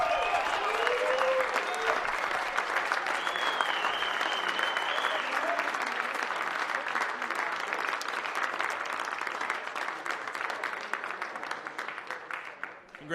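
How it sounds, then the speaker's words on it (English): A crowd at the 2019 Golden Tee World Championship applauds the champions in sustained, dense clapping with a few whistles and cheers, tapering off at the end. "How about one more big round of applause for our champions up here?"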